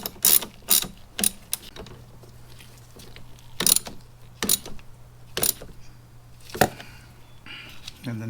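A ratchet wrench tightens a bolt on a battery terminal in a car's engine bay, giving off several bursts of quick, close metallic clicking separated by pauses, over a low steady hum.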